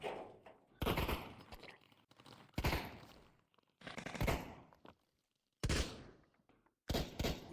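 Gunfire in the VR game Brutalistick: several loud, sharp bursts of rapid shots at close range, separated by short pauses of quieter background.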